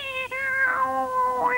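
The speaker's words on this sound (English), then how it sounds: "the ship's cat, which by lucky coincidence I carried with me" A ship's cat meows twice in a drawn-out, wavering cry, loud and close, with no talk over it.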